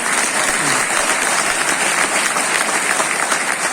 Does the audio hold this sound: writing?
no